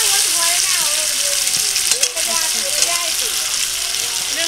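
Potatoes fry in hot oil in a pan during village cooking, giving a dense steady sizzle close by while people talk over it.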